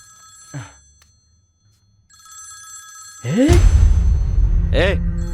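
A telephone rings in short bursts with pauses between in an Indian action movie scene, followed by loud voices and a clatter, the ringing continuing faintly underneath.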